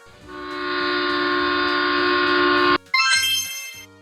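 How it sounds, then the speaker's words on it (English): A heritage train's horn sounding one long sustained loud blast, then a short break followed by a burst of chiming, tuneful tones. "A heritage train is an old train kept for tourists"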